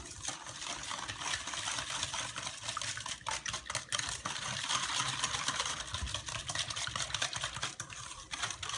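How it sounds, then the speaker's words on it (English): Whisk beating French toast casserole batter with cinnamon and brown sugar in a bowl, a steady rapid scraping and clicking that runs continuously and close by, with no talking. "You want to whisk it really, really well until the cinnamon is almost dissolved into the batter"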